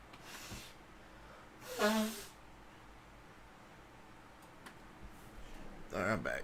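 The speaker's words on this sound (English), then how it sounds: "I had to blow my nose" A person blows their nose, a short, close, nasal burst partway through, amid soft breathing and faint clicks in an otherwise quiet room, with a second fainter blow near the end.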